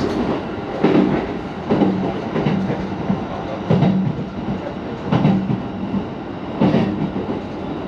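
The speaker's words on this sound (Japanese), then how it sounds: "ホームには新宿湘南ラインの逗子行きの電車が入線してきましたので、こちらに乗車したいと思います。" A Shonan-Shinjuku Line train bound for Zushi pulls into a station platform, its steady rumble and loud rhythmic clack of wheels over rail joints recurring every second or so, close by.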